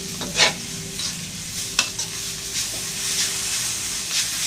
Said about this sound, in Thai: ทีนี้ก็จะผัด หัวจะโป๊นะครับ ให้เขาสุกน้ำมันได้ที่ก่อน